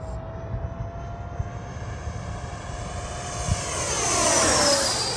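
A Freewing 90mm electric ducted fan DH-112 Venom RC jet whooshes past on a high-speed pass with a rising, whining roar that swells loud and sweeps in pitch as it flies by overhead.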